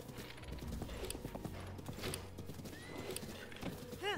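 A horse in the video game Zelda Breath of the Wild, with steady clip-clop hooves trotting throughout and a neigh near the end over a quiet game soundscape.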